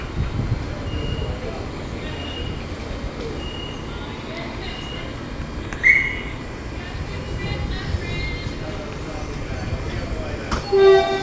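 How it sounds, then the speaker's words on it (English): A Queensland Rail SMU suburban train at Coomera station on the Gold Coast line, a steady rumble of a train at the platform with brief higher-pitched squeals or tones, and a voice speaking over it. "No, I'm recording trains."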